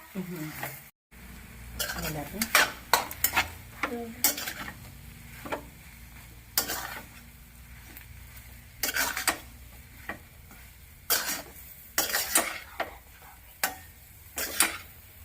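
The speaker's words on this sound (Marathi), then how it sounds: "आता ह्याला आपण थोडस हलवून घेऊया." Spoon scraping and stirring spiced potato filling for bread pakora in a pan, with a low sizzle underneath and repeated sharp clinks of utensil on metal coming in uneven bursts, close by.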